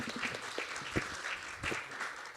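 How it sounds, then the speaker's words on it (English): Audience applause at an EdTech startup pitching competition: a steady burst of many hands clapping, moderately loud and continuous throughout. "Round of applause, please."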